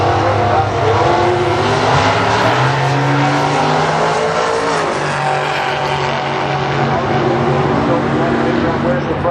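A dragster roars down the drag strip in a loud, sustained engine blare with shifting pitch, overlaid by a race announcer's commentary throughout.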